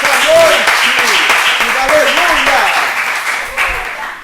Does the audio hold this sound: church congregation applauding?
yes